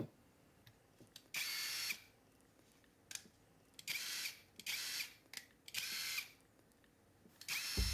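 A HyperTough 12V cordless impact driver drives screws in repeated short bursts, each a loud, harsh hammering whir lasting about a second, separated by quiet pauses, with no talking.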